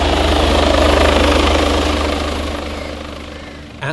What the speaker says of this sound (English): This is certainly one of the most advanced, if not the most advanced police helicopter flying today.